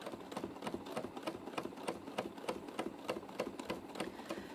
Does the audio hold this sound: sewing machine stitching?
yes